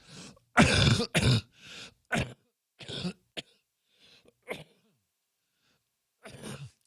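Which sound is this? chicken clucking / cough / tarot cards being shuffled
cough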